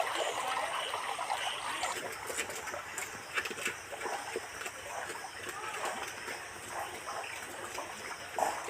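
Rainwater drains away through a freshly cleaned street drain, a steady rushing trickle and splash with faint birds nearby and someone talking over it.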